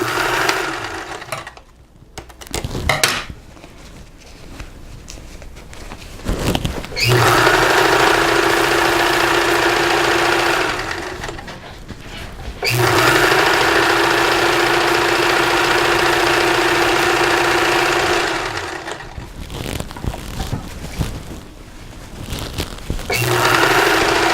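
A sewing machine stitches a pillowcase seam with a half-inch seam allowance, running in three sustained bursts separated by short quiet pauses, loud and close.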